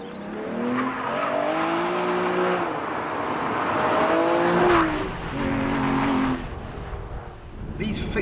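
An Aston Martin DBS on the move, its engine note rising and falling through several loud, sustained revs close by, with a brief dip in level before the drone picks back up.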